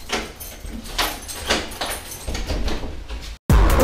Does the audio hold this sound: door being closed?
yes